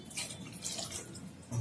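Water pours into a pot of gongura chicken curry as gravy is made. It is a brief, splashy stream with a small liquid burst near the end, and no talk over it.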